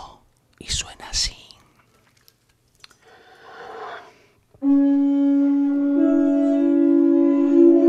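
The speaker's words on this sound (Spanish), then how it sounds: "es un caracol prehispánico y suena así." After soft whispering and rustling, a pre-Hispanic conch shell trumpet is blown in one long, steady, loud droning tone that holds to the end.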